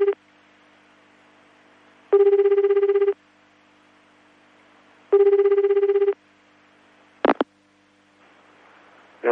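A telephone rings on a late-night Japanese radio show in 2003, with two separate bursts of ringing separated by a few seconds of quiet hum, followed by a short click as the line is picked up.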